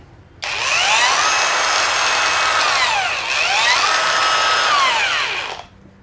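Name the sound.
Mollar CAG20300 cordless 20V angle grinder running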